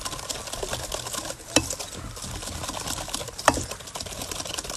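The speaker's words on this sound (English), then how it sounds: "when you're using a whisk, just try to use your wrist" A metal whisk beating tea cake batter in a bowl, a fast, steady scraping and tapping rhythm with two sharper knocks against the bowl, close by and with no talking.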